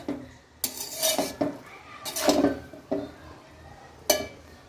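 Dishes and a serving spoon clink and scrape in a home kitchen as freshly cooked mung bean pulao is served, several distinct bright clatters spaced a second or so apart, close and moderately loud, with no talk.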